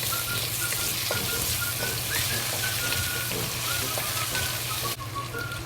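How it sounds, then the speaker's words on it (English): Cucumber fries in a pan with oyster sauce, giving a steady, dense sizzle that fills the whole stretch up close with no talking. "And fry it."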